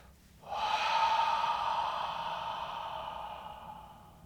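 A long, steady exhalation during a slow breathing exercise, breath flowing out in one continuous breathy rush that starts abruptly and gradually fades over several seconds, close and clear with no talking.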